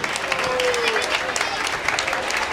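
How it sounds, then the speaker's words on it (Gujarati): Applause breaks out at a family get-together in Mumbai, a steady round of many hands clapping from a crowd, heard fairly close and alone for a couple of seconds. "આ સૌને ખૂબ ખૂબ તાળીઓથી બતાવો"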